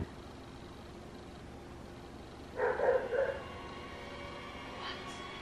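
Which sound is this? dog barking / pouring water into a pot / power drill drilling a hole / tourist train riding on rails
dog barking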